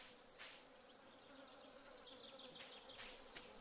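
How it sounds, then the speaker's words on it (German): Bees buzzing in the video game Stardew Valley, a faint continuous insect drone with wavering pitch and a few brief louder passes, heard alone at low volume. "Wieso höre ich hier Bienen?"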